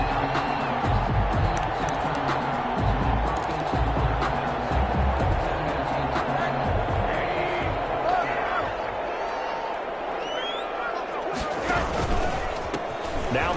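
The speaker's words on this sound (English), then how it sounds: "this crowd loves it as their guys hold on the opening drive" Stadium crowd at a Giants vs Vikings football game roars steadily throughout, a loud sustained cheer with scattered claps and thuds, while a commentator talks over it.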